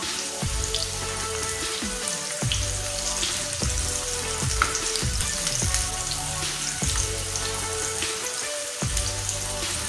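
Chopped onions fry in hot oil until golden brown for a kaleji pota masala, giving a steady, dense crackling sizzle that runs throughout under a rhythmic musical backing.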